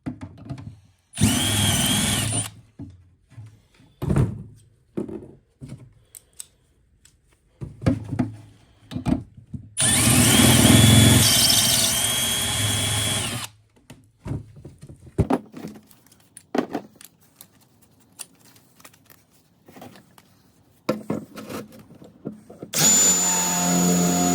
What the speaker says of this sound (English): You barely need to engage that drill